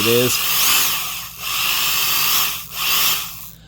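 A Skil 223 3/8-inch heavy-duty compact electric drill whirs steadily at high speed, dipping briefly twice as the trigger eases, with a short low hum at the start.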